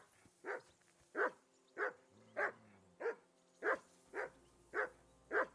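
Nine evenly spaced barks from a dog in the video game Kingdom Come: Deliverance 2, close and clear, each a short sharp woof against a quiet ambient background.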